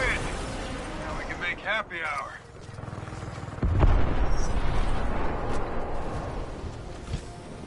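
A tripwire explosive goes off in a video game with a heavy, booming burst partway through, followed by rumbling game noise, while players chatter over the action.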